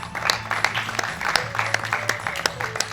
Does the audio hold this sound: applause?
yes